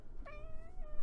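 A single drawn-out meow from Mia, a pet cat, rises and then trails off, clear and close with little else around it.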